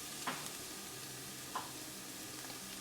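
Corn masala is stirred in a pan after lemon juice goes in, with a soft steady sizzle and two faint scraping strokes of a spoon, quiet and close.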